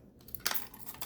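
A metal key turns and springs open a fire alarm box with a short metallic clack and light rattle, close up and alone.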